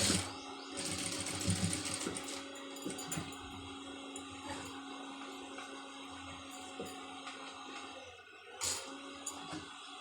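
A sewing machine stitches fabric with a continuous mechanical whir that stays even and close throughout, fading briefly near the end before it resumes.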